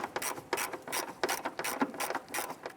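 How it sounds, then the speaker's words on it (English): Ratchet clicks rapidly in short repeated bursts as a fender well bolt is snugged down on a 1999-2004 Jeep Grand Cherokee 4.7L V8, close and clear with no talking. "We'll install our fender well bolt right here. And we'll go ahead and snug that down."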